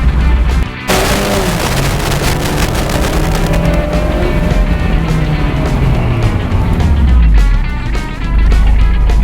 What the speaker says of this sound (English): You will get some noise in a convertible, that's inevitable.